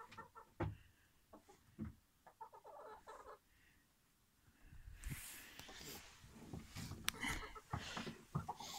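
Chickens in a composting coop cluck in short, scattered calls while scratching through compost, the sound growing busier and denser in the second half with rustling alongside.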